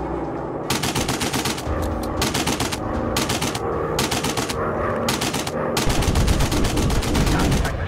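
Continuous rapid machine gun fire from a WW1 fighter plane in the VR flight game Warplanes: WW1 Fighters, loud and dense bursts rattling almost without pause over a steady engine drone.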